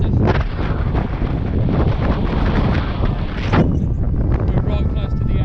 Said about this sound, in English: You can see how windy it is just by how fast the clouds are moving past us.